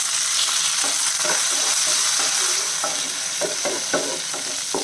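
Garlic and curry leaves sautéing in a hot pan for masala idli give a continuous bright sizzle, broken by repeated soft stirring scrapes at an uneven rhythm.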